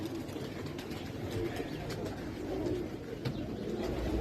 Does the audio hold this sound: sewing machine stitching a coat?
no